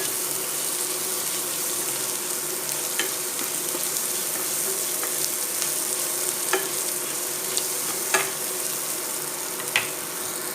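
Onions frying with salt in a pan, a loud steady sizzle close by with occasional scraping stirs and small clicks of the spatula, no voices.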